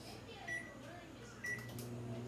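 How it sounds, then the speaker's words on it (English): A microwave oven runs with a quiet, steady low hum, with two short beeps or clicks along the way. The sound is faint and close, with a bit of background noise. "I'm going to put the microwave on for 5"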